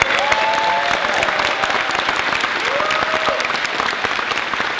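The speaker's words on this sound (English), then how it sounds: "Give yourself a round of applause." Audience applause fills a motivational event hall, steady dense clapping from a large crowd with faint cheers and whistles rising over it throughout.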